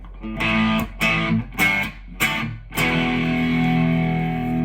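Distorted electric guitar chords from a Les Paul-style kit guitar strummed in short bursts, then a sustained ringing chord, played at a modest volume.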